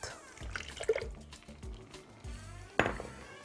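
Oil pours quietly in a thin stream into a blender, with soft glugs and a small splash near the end.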